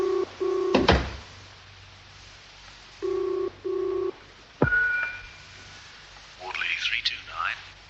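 A British landline ringing tone heard down the receiver in a radio drama: two double-burst rings, then a click as the line is picked up and a brief muffled voice answers.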